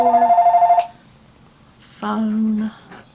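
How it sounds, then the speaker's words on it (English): A telephone rings once in a steady pulsing electronic trill lasting under a second, then a short burst of close speech follows after a pause. "I knew the phone was going to ring"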